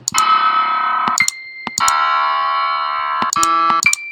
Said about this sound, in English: Grand piano.